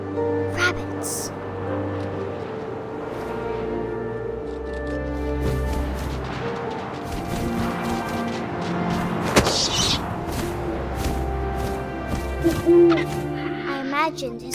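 In What Remains of Edith Finch, an owl hoots in low, repeated calls against a soft wind-like ambience and a light musical bed, with a voice narrating over it.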